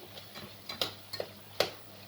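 A whisk's plastic end knocks and scrapes inside a cooking pot holding choux pastry dough. There are a few distinct taps and short scrapes in an irregular rhythm, close and fairly quiet.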